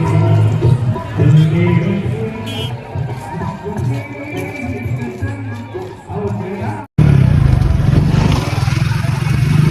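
Motorcycle being ridden through the countryside, a steady engine and road rumble with a louder burst of wind and engine noise near the end, while people talk over it.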